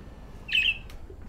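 A parrot gives one sharp, shrill squawk, brief and close, over a low rumbling background.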